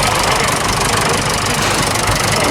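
A tractor engine idles with a steady knocking chug at a Christmas tractor run, loud and continuous throughout with no pauses.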